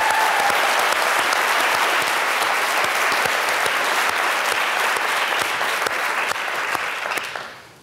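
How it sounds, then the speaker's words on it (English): A large audience at a university lecture event at Johns Hopkins breaks into loud, sustained applause, a thick continuous roar of clapping that fades out at the end. "Please give them a round of applause."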